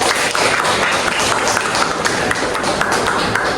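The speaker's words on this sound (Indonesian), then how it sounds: "Tepuk tangan buat Mbak Ira." Dense applause from an audience at a microteaching practice session in a classroom, a steady loud wash of many hands clapping that fills the whole stretch without pause.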